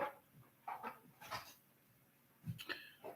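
A dog in a truck cab gives a few short barks mixed with whimpers and yips, close and fairly quiet, with brief pauses between the sounds.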